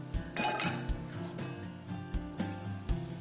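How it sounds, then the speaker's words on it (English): Spoon stirring mushroom risotto in a pot, soft repeated clinks and scrapes of metal against cookware in an uneven rhythm, quiet and close, without speech. "Stir the mixture up."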